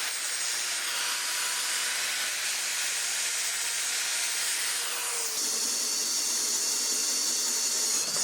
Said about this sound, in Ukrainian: Сверлимо, щоб можна було повісити